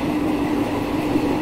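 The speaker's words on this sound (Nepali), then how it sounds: "म अहिले केरलातर्फको ट्रेनको यात्रामा छु र यहाँहरूले ट्रेनको आवाज पनि सुनिराख्नु भएको छ" A passenger train bound for Kerala runs steadily along the tracks, a loud continuous rumble and rattle of wheels and carriages heard from close by, with no speech.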